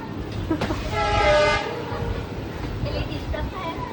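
A train rolls along with a rumbling clatter, and its horn sounds once in a brief, loud toot partway through. Faint voices can be heard underneath.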